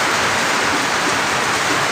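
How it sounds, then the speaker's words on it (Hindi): Heavy rain pours down steadily and close by, a dense, unbroken hiss of water with no voices over it, during a rural daily-life scene while a cow is being milked. "बहुत जोर पूरा वर्षा हो"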